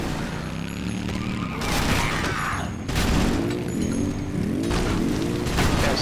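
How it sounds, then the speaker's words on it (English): Gunfire from the video game Dead Rising crackles and booms in repeated bursts with mechanical clatter, loud and continuous for several seconds without speech. "Stop shooting at me."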